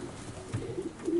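A female racing pigeon coos softly while being held and handled by a fancier in Urziceni, Romania. Short, low, throaty coos repeat close by in a quiet setting.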